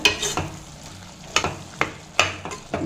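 A ladle mashes cooked lentils in a pot for kootu, producing a handful of sharp clinks and scraping knocks spaced irregularly over soft, wet squelching, close and moderately quiet.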